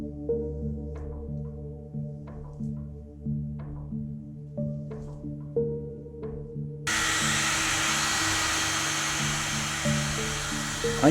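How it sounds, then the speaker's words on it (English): A hair dryer pushes wet watercolour paint across paper. After soft background music notes, the dryer switches on abruptly and blows with a steady, close, loud hiss until the end. "I use a hairdryer to manipulate the direction of the flow."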